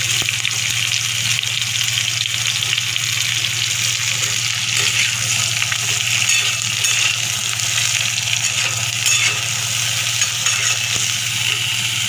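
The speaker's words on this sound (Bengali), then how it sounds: "ভালো করে ফুলকপিগুলো ভেজে নেবেন" Cauliflower florets fry in oil in a pan for a vegetarian dish, giving a dense, even sizzle with a low steady hum beneath and occasional faint stirring, continuous and close with no talk.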